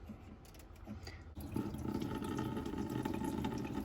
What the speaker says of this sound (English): So it's just a trickle.